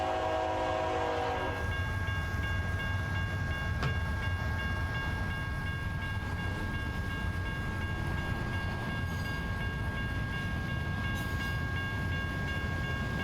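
Freight train in the American Truck Simulator game rumbles past continuously, a low steady rolling roar with faint tonal hum and a brief horn-like tone at the start, loud and close throughout.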